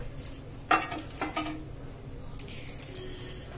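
Halkowa barfi being cut into pieces, heard as a few sharp knife taps and scrapes against a plate or tray, close and brief, with quiet kitchen background.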